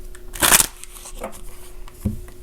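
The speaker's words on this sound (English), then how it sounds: "I'll be pulling from my Tanielu Tarot deck here" Tanielu Tarot cards being shuffled by hand, a loud riffling burst followed by a couple of softer, brief card rustles, close up with no talking.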